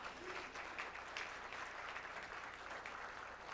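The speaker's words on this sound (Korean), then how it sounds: "다시 한번 큰 박수 부탁드리겠습니다." A conference and gala dinner audience claps steadily after a congratulatory speech, a soft, even patter of many hands heard at a distance.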